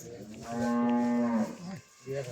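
A Friesian cross cow gives one long, drawn-out moo, loud and close, followed by a short second grunt at the end.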